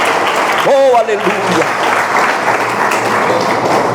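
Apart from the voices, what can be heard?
congregation applauding in church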